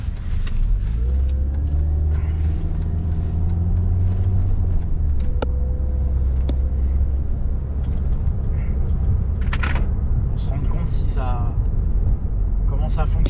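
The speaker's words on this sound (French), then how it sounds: "essayer dans quelques instants la capacité de reprise de cette voiture" A car on a test drive, pulling away and accelerating with a steady low engine rumble that builds gradually, with brief clicks and interior noises over it.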